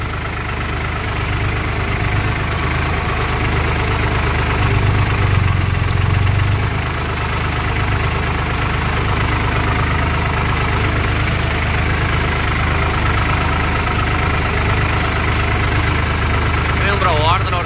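Indo Farm 3048 DI tractor with cage wheels in a muddy field, engine running steadily in low gear at about 1300 RPM, a loud continuous diesel drone throughout with a voice speaking over it.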